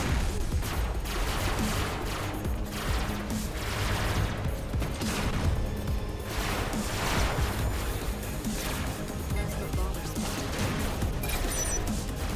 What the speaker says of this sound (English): You see I'm taking SMG fire, actually no problem.